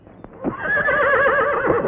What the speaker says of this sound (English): You know, Casey, that stallion's mother was a Lippizan.